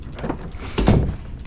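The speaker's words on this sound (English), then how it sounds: "Close your door, close your door, close your door." A door sliding and thudding shut in Dead Signal, a single close, heavy thunk after a short grinding slide.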